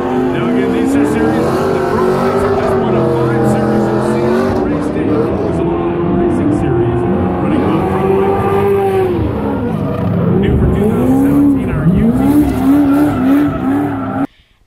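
Cars drifting in an outdoor drift area at the SEMA show, with professional drivers taking passengers out; engines rev and tires squeal in wavering, sustained bursts throughout, loud and close, with voices mixed in.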